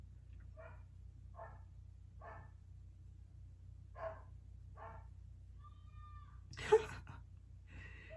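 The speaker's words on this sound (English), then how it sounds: "My dog's barking. That is what you're hearing." Several short barks or yips from a dog on a farm, spaced about a second apart, fairly distant over a low steady hum, followed by a sharper louder cry.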